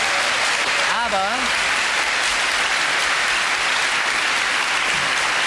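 Studio audience clapping throughout at a German TV game show, a dense steady roar of applause with a brief voice rising over it near the start.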